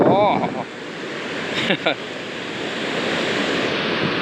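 Water rushing from the overflowing Hamipara village dam with one floodgate open, a steady broad roar of surf-like noise with wind buffeting, a voice speaking briefly near the start.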